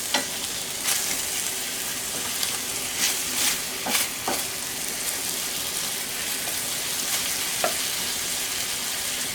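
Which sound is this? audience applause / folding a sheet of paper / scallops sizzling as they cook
scallops sizzling as they cook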